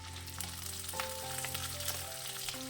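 Garlic and shallots sizzle steadily in hot oil in a pan, a close, dense frying hiss with faint crackles and no voices.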